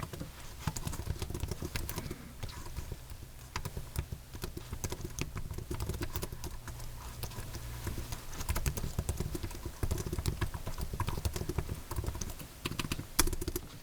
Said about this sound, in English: Typing is nearly silent on it, with just enough tactile and audible feedback to make it really satisfying